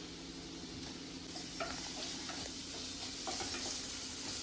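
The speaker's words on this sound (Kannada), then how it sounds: "ಈರುಳ್ಳಿ, ಕ್ಯಾಪ್ಸಿಕಮ್ ಮೂರನ್ನೂ ಒಟ್ಟಿಗೆ ಹಾಕ್ಕೊಂಡು ಫ್ರೈ ಮಾಡ್ಕೊಳ್ಳೋಣ ಗಾಯ್ಸ್." Onion and capsicum frying together in a pan for Korean-style noodles, giving a steady, close sizzle with occasional light scrapes and clicks of stirring, with no voices.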